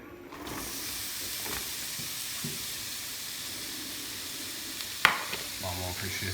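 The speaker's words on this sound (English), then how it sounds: "Oil is hot, let's get some onions in it." Onions hit hot oil for carnitas and set off a steady, broad sizzle that continues evenly throughout, with a sharp knock near the end and a little faint background talk.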